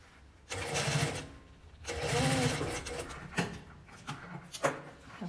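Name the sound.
sewing machine stitching through fabric layers and batting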